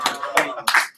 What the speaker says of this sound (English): so let's give Paul a round of applause.